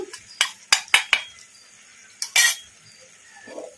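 A spoon stirs masala powder into chicken fry in a pan over medium flame, giving four sharp metallic clinks early on, then a louder scraping clank and a faint rustle near the end.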